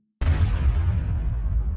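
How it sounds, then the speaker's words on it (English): Slowed-down explosion effect in a music mix, a sudden deep boom after a short silence that rumbles heavily in the low end and slowly decays, its top end fading over under two seconds. "Explosion as usual"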